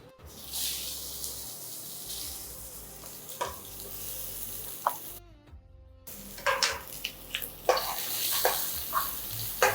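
Onion and garlic being sautéed in a pan for millet kothu dosai, with a soft sizzle under scattered stirring scrapes and clinks that grow busier toward the end, quiet and close.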